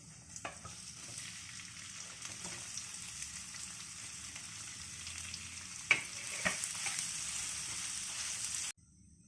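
Potatoes in a pan of hot oil tempered with asafoetida and turmeric give off a soft, steady sizzle. A spoon stirs through them with a few scraping clicks, and the sound is low and continuous before it cuts off abruptly.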